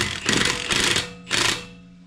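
An Ugga Dugga impact wrench on a lowered setting tightens lug nuts during a tire rotation, firing three close, loud rattling bursts in quick succession before fading to quiet.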